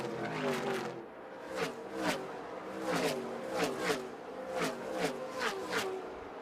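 NASCAR K&N Pro Series race cars lapping Gateway Motorsport Park, engines roaring past in repeated sharp surges with a steady mechanical drone between them, a commentator's voice running over the track noise.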